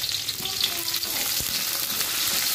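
Lemongrass, ginger, bay leaf, chili and tomato sautéing in a pan for a shrimp dish, a close, continuous sizzle with occasional stirring knocks.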